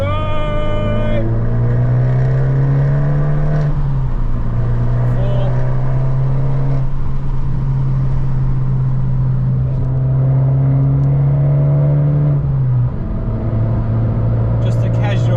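Abarth 595 Turismo pulling hard in third gear, its engine note rising in a steady loud drone that dips briefly at a shift before climbing again, with a voice talking over it.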